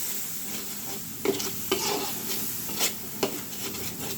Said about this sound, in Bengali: এবার আমি এটাকে ভালোভাবে কষিয়ে নিব।